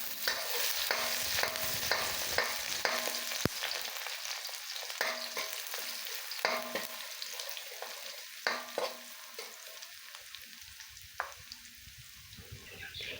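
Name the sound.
sliced garlic sautéing in hot oil in a pan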